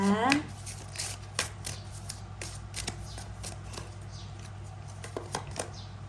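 Oracle cards being shuffled by hand, a loud riffle at the start followed by soft repeated shuffling taps and flicks over a low steady background hum.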